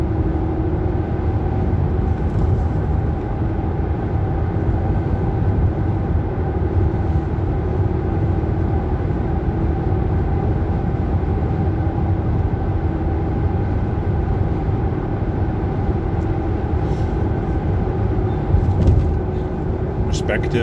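A car driving through empty city streets during lockdown, heard from inside as a loud, steady engine and road drone that holds unchanged throughout.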